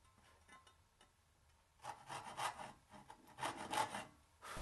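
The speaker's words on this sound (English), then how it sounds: "Now I'll go ahead and start sawing out the miter." Hand saw cutting a miter in wood for a dovetailed tea chest case, a rhythmic rasping of repeated strokes that starts quiet and grows louder and closer midway.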